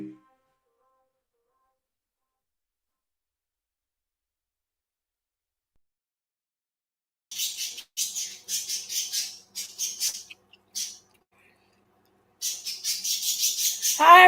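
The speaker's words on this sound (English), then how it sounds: "I gotta cover the birds. They're talking." Pet birds squawk indoors in short sharp bursts, a cluster of calls after a long quiet stretch and then a denser run of squawks at the end, fairly close and clear.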